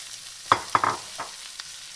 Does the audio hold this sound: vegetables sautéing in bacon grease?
yes